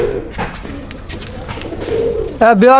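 Fancy Pakistani teddy pigeons coo close by in short, low throaty calls under someone talking, the cooing swelling louder near the end.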